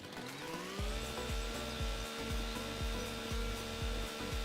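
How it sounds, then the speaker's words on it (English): A chainsaw in Farming Simulator, idling and then running steadily while clearing forestry debris, a sustained buzzing drone with a regular pulsing chop, fairly quiet and alone. "So let me get my chainsaw out because I need to clear some of the stuff out."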